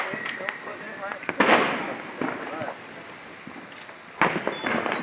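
Diwali firecrackers bursting in the distance near Mussoorie, a few scattered pops and crackles, some louder and some faint, set against outdoor ambience and people talking.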